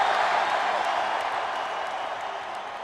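Hockey arena crowd cheering and applauding the Chicago Blackhawks after a Stanley Cup Final game, a dense, steady roar of claps and shouts that stays loud and slowly eases off.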